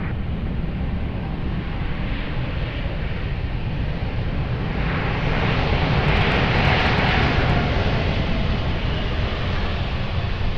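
A fixed-wing airliner approaching and landing on runway 02 at Lisbon Airport, its engine roar steady and loud throughout, swelling slightly in the second half as it draws nearer.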